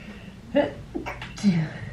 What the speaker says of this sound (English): Ooh, I had a sneeze there